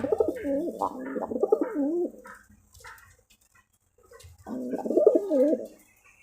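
Pigeons coo in two close, throaty bursts of rolling, warbling calls with a quiet gap between them, from a male Ghonobaji pigeon held in a home loft, with no talking.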